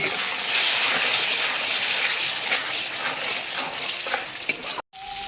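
Salt and a splash of water braised in a sizzling pan, a loud, close, continuous frying hiss with stirring scrapes, cut by a brief silence near the end.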